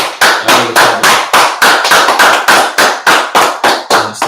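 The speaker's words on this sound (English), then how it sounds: "Y'all clap it up" Audience clapping in a steady, regular rhythm, about three claps per second, loud and close, with no talking over it.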